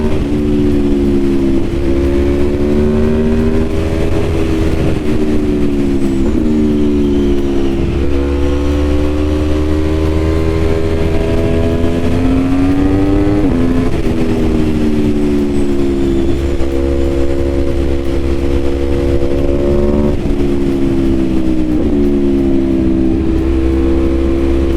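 The V4 engine of a 2021 Aprilia Tuono V4 Factory motorcycle heard loud and close while riding, its revs climbing and dropping repeatedly through gear changes over constant wind noise, with no talking.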